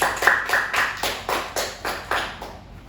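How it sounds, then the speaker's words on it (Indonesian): Students in a microteaching physics class clap in an even, deliberate rhythm, about ten distinct claps spaced roughly a quarter second apart, fading slightly toward the end. "Berikan tepuk tangan dulu untuk kalian."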